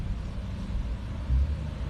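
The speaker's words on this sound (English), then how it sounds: "Somebody towing a big ass truck." A big truck being towed past over speed bumps, a low, loud rumbling drone with a brief heavier thump near the end.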